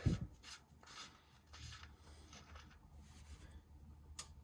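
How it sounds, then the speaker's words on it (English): A 3/8 ratchet turns on the transmission fill plug of a Ford Super Duty F-250/F-350. It gives quiet, close rasping clicks in short bursts with no talk. "We got a 3/8 ratchet. We'll loosen that off, pull out our fill plug."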